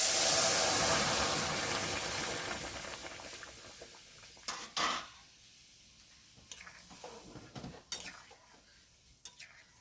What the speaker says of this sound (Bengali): এখন আমি ডালটাকে ঢেলে দেব।